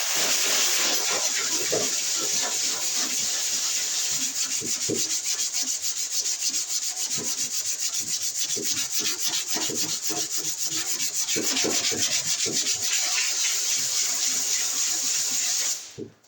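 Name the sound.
hand sanding body filler with 80-grit sandpaper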